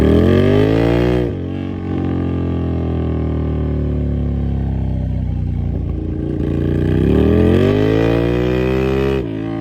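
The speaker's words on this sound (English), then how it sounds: "so that the neighbors don't absolutely hate me when we test out this exhaust" A cheap Ducati Scrambler motorcycle with a straight-piped exhaust revs hard outdoors in an isolated spot, loud rising and falling engine roars with a brief drop to idle between blips, no talking.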